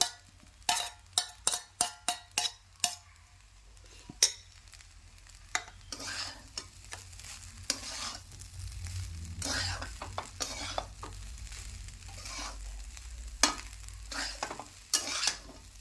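A spatula scrapes and clinks in a sizzling pan as fried egg and shrimp are stirred into a dish: a quick run of sharp taps, then irregular scraping over a low, steady frying hiss.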